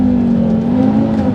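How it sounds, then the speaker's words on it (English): A 5-cylinder Audi TT RS Plus engine holds a loud, steady, close drone at high revs, with a strong, even tone throughout and no talk. "for your listening pleasure, today we have another 5-cylinder Audi on the channel."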